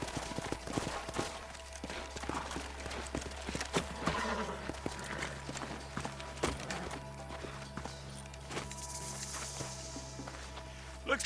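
Horses walking in the Red Dead Redemption video game, hooves clip-clopping in an uneven rhythm over a steady low ambient bed, with a whinny and other game sounds mixed in.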